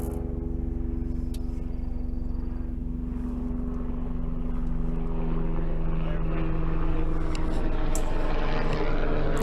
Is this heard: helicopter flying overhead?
yes